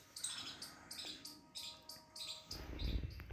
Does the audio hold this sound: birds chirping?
yes